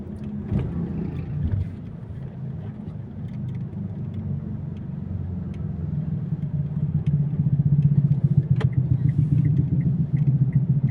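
Steady low engine rumble of cars moving and slowing through a busy circle without a stoplight on a Philippine street, continuous and fairly loud, with faint higher hiss and occasional clicks layered over the traffic drone.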